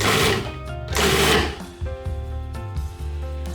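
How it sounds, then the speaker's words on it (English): Food processor pulsing chimichurri ingredients, heard as two loud bursts of whirring blade noise about a second each, followed by quieter mechanical humming and clatter from the machine. "Pulse until the ingredients are chopped fine but not pureed."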